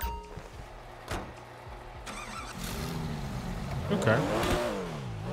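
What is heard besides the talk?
Porsche engine sound in the video game GTA 5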